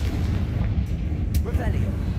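A fire-blasting explosion spell in a wizarding video game, a deep rumbling boom that sustains heavy low-end roar across the whole moment, with a brief sharp crackle and a voice speaking over it.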